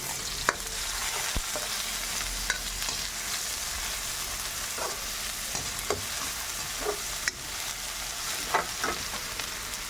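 Garlic and onion sautéing for ginisang misua, a continuous close sizzle punctuated by occasional sharp clicks of a spoon stirring against the pan, with no talking.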